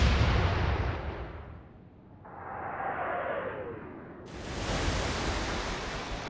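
Naval guns fire in the Atlantic Fleet game, Battle of the Atlantic with the Royal Navy, giving a low, broad roar that ebbs, swells with a rushing whoosh, then comes back as a wide hissing blast, distant and muffled, with no voices.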